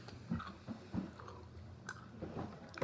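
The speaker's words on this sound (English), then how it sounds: "Alright, I'm chewing it now." Someone chews a piece of sour candy up close, with soft, wet, irregular bites and squishes spread across a few seconds in a quiet room.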